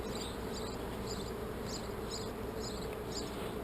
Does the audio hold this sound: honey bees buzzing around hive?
yes